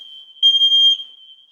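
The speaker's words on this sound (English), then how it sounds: "I don't know what's going on with my smoke detectors today" A household smoke detector sounds a single sustained high-pitched electronic tone, loud and close, swelling briefly in the middle before settling back to a steady piercing beep.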